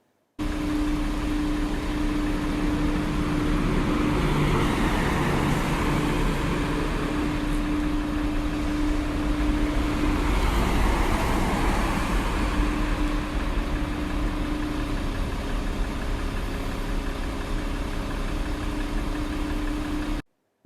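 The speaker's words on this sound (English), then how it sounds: "Now let's see the traffic noise generated by motor vehicles." Continuous urban motor-vehicle traffic recorded through a seismic sensor during the COVID-19 pandemic, a steady low engine-like drone and rumble with a sustained hum, even and unbroken for about twenty seconds.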